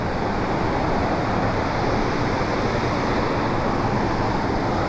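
Powerful waterfall roaring as water crashes down at a fishing and picnic spot near Metro Manila, a loud, steady broadband rush that fills the whole stretch without pause, close and constant with no voices.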